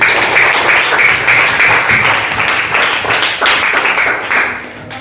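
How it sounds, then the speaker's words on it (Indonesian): A classroom of students applauds a classmate during a math lesson, loud dense clapping close by that holds steady and then tapers off near the end. "Boleh tepuk tangan untuk William?"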